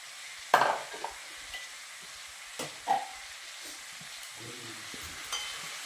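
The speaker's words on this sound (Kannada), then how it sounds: "ನೋಡಿ ಇಲ್ಲಿ ಬಟಾಣಿನು ಮತ್ತು ಮಶ್ರೂಮ್ನ ಎಣ್ಣೆನಲ್ಲಿ ಹುರ್ಕೊಳ್ತಾ ಇದ್ದೀನಲ್ವಾ" Mushrooms and fresh green peas being stirred and fried in oil in a pan for a gravy, with a few soft spoon scrapes and stirring clatters over a faint low sizzle, no voices.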